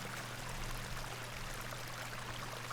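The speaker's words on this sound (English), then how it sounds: "Is that what this river is? This is a lovely little beck." A small beck flows steadily in the video game The Excavation of Hob's Barrow, a continuous soft rushing and trickling of water heard alone, even and moderately quiet throughout.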